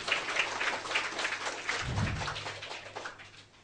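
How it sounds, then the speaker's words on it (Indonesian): A crowd claps steadily, a dense patter of many hands with no voices over it, swelling briefly before tapering off. "Tepuk tangan untuk jawaban yang luar biasa."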